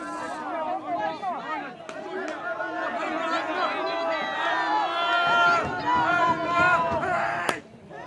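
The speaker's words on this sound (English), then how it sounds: "You can see both the crowd now really getting into this game as well" A crowd at a U17 boys' national softball game chatters and murmurs in a continuous babble, with a few livelier voices rising and a sharp knock near the end, moderately loud and steady.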